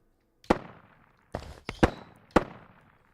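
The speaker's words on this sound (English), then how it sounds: "I'm triggering the rifle, the remote rifle, but I am actually too far away to hear the remote rifle itself" A remote rifle gunshot bouncing off a spot reflector in a Wwise Reflect game-audio demo: four sharp reports with decaying tails, spaced about half a second to a second apart, heard alone with no talk.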